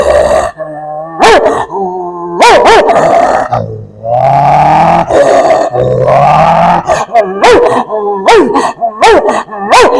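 A voice imitates dogs fighting, with rough growls, grunts and snarling howls coming in close, loud bursts throughout.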